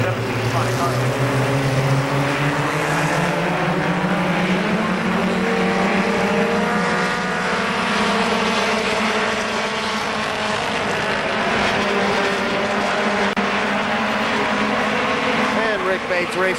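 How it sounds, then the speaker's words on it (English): Race cars roar around the KilKare Speedway oval, several engines droning and rising in pitch together as the pack runs steadily near the track, with an announcer's voice over the noise. "Bates raced in no time, pulls out to that lead over Frank Harvey, the 17 machine."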